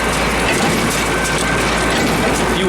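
Hay baler idling with a loose plunger, a steady dense mechanical clatter and rattle of chain and gears running continuously at close range with no voices.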